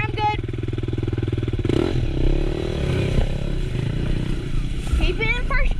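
A motorcycle in first gear works along a single-track trail at Spearhead Mountain View: a steady, close engine drone with rising revs, clattering and scraping over rough ground, and people talking over it.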